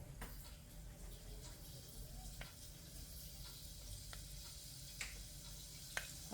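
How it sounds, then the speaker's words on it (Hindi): Fenugreek seeds sizzling in hot mustard oil for besan kadhi, a steady low crackling fry with scattered sharp pops and ticks, faint and continuous. "तो हम इसमें डाल देंगे मेथी दाना।"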